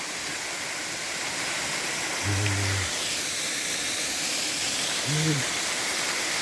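A waterfall roars with a steady, dense hiss throughout, while a voice speaks briefly twice over the rushing water.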